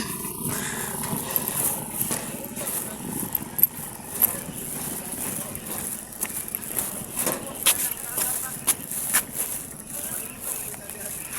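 A motorcycle runs behind someone walking across a long hanging bridge over a wide river, its engine a faint, rough drone mixed with crackling wind and footsteps as people talk nearby.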